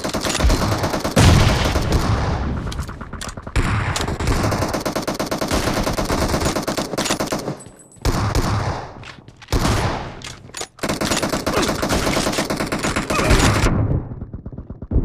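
Rapid, loud gunfire from a team deathmatch shooter video game with M24 sniper rifle play, dense bursts of shots running almost continuously with brief gaps near the middle and a quiet tail at the end.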